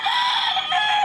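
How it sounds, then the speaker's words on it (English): A chicken in a city street in the Philippines gives one brief, loud, close squawking call lasting about a second. "There's a chicken in there."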